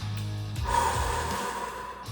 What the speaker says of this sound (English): You don't want to go in there and start breathing in like this.